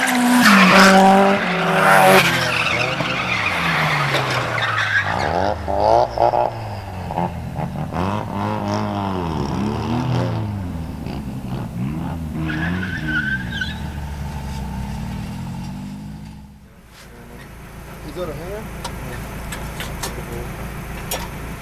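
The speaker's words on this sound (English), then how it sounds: "this is why you don't drift on the street" A car drifting on a public street sends out long, loud tire squeals and skids over a revving engine, the wails rising and falling for about twenty seconds before fading into road noise.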